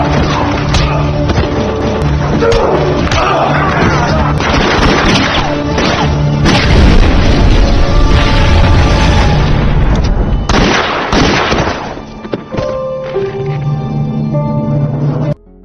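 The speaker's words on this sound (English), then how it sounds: "The battle ends with a massive explosion." A long, loud rumbling blast with crashing debris and booming impacts, dense and continuous, fading into scattered crackling at the end.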